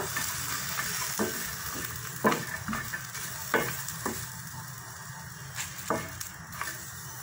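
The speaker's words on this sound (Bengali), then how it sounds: "পাত্রে শুটকিগুলো দিয়ে দিলাম ভাজার জন্য।" Dried fish (shutki) frying in a pan, with a continuous close sizzle broken by repeated scraping and stirring knocks at irregular intervals, moderately loud and with no talking.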